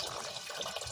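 Water is poured into a neem leaf and palm oil pesticide mixture, giving a steady one-second rush of splashing liquid at close range with no talk.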